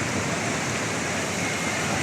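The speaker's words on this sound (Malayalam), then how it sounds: "ഈ വീടിൻ്റെ അങ്ങേ ഭാഗത്തു കൂടെയാണ് പുഴ പോണത്" A river rushes past a house in Chooralmala after a landslide, a dense, steady roar of water with no breaks, loud and close, with no voices over it.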